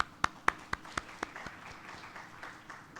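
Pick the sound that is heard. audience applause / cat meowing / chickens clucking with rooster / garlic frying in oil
audience applause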